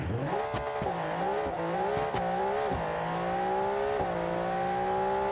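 A BeamNG.drive drag car launches hard, its engine revving high and climbing through rapid gear shifts with sharp shift cuts, a loud continuous whine and tire noise filling the whole stretch without voices.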